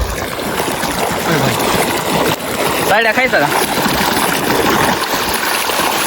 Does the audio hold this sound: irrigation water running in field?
yes